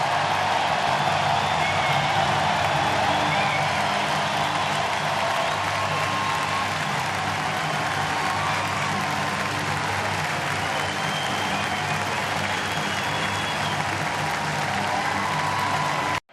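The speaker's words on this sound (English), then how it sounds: "he deserves this applause" A baseball stadium crowd applauds a player in a sustained, steady wash of clapping with scattered cheers, loud and even throughout before cutting off abruptly at the end.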